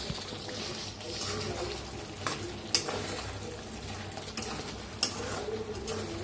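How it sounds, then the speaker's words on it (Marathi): Stuffed bell pepper curry thickened with roasted gram flour is stirred in a pan, giving a steady close scraping and gentle sizzling, with soft rustles and faint clinks. "आता जरा मिक्स करून घेऊया."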